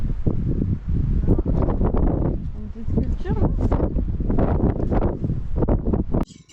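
Strong wind on the island of Maui, Hawaii, buffets the microphone in loud, rough gusts that roar almost without a break and drop off abruptly at the end.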